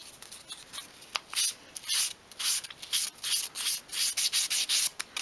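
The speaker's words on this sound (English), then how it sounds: "you just want to sand all the way around the edge" Sandpaper rubbed back and forth around the edge of a wooden 1/12 scale ornamental model boat piece, a steady run of close, bright scratchy strokes in quick succession with no talking.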